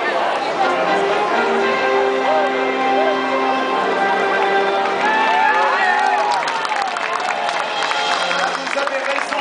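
A crowd at the Tour de France 2010 podium ceremony applauding and cheering in a dense, steady roar, while an amplified voice speaks over it.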